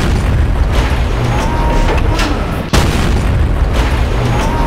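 Tank cannon fire in World of Tanks plays over a constant loud battle rumble. A single sharp shot cracks out near the middle, and someone speaks Korean over the noise.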